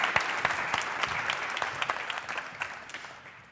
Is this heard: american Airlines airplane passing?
no